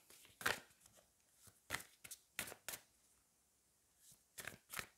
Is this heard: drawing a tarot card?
yes